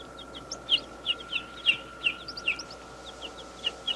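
Newly hatched falcon chicks kept in a laboratory make a run of high, thin chirps and peeping calls, close by and fairly clear, over a steady low hum.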